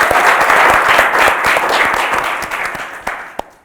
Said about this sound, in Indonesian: kita beri aplaus dulu kepada dia